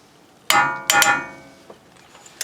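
Breaker bar loosening a 17mm front brake caliper bolt on a 2002 Nissan Maxima: two sharp, loud metallic clangs with ringing tails, the second a quick double hit, then fading faint clinks.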